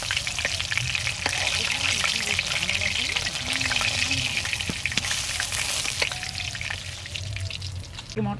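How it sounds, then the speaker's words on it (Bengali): Fish frying in a pan in an outdoor rural home kitchen, a steady loud sizzle and crackle running throughout with occasional pops, with people talking in the background. "ওখানে মাছ রান্না করছে"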